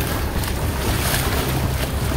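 Water splashes and churns in a canal where people are floating on a tube, a dense rushing wash with wind buffeting the microphone, steady and close.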